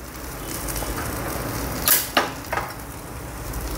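A diet dosa sizzles in a little oil on a hot pan, a steady close frying hiss with a few brief crackling bursts from fresh oil hitting the pan.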